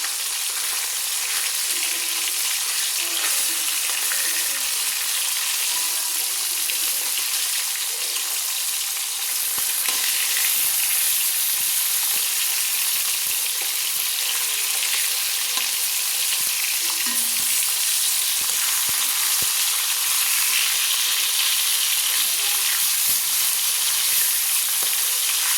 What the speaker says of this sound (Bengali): মাছগুলো ভাজা হয়ে গেছে 1 পিঠ, আমি উল্টে দিচ্ছি